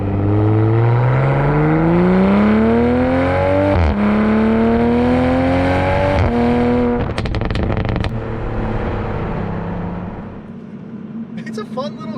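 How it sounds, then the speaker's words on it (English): A 2020 Toyota Supra with sport exhaust rises loudly through the gears while driving, its engine note climbing in pitch, dipping at shifts, then crackling and popping before settling to a lower drone. "the sport exhaust sounds pretty good"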